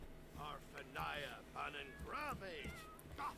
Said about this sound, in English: It's a cute cat.